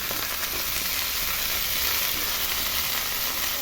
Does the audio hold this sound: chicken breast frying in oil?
yes